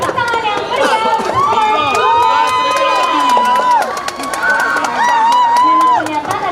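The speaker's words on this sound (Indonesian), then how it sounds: "Beri tepuk tangan yang meriah untuk" Children and teens cheer, shout and whoop loudly after a high school class XII dance exam performance in Palembang; a dense, excited crowd of voices rises and falls throughout with a few claps mixed in.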